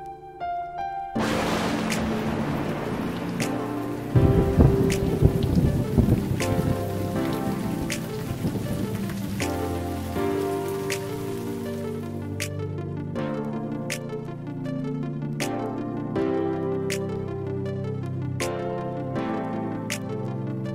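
Heavy rain from Typhoon Goni (Rolly) lashing the northern Philippines, a dense steady downpour heard under a sustained musical score with tonal chords; thunder is not distinct.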